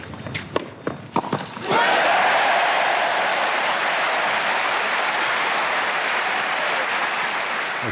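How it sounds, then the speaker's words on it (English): A crowd at a Roland-Garros tennis match bursts into loud, sustained applause after a few scattered claps and footsteps, the dense clapping continuing steadily and close. "The crowd's still applauding."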